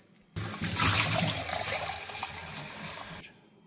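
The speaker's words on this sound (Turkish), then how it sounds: "Şimdi kabını yıkamak istiyorum." Tap water runs steadily for about three seconds while the container of a Ninja ice cream maker is rinsed and washed, starting and stopping abruptly, close up with no talking.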